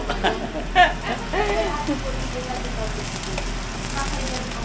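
Udo frying in a pan, a soft continuous sizzle running under Filipino conversation with a few brief clinks and bumps early on.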